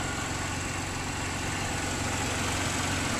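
A Pontiac Grand Prix engine idles steadily after a cylinder 3 misfire repair, a smooth continuous rumble that stays loud and unbroken throughout with no voices.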